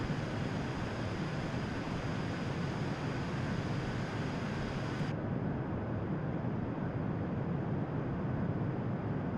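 A steady, airy aircraft engine drone cruises in the game Kerbal Space Program, a broad continuous rushing hum with no talk, its upper hiss cutting off partway through while the lower roar carries on.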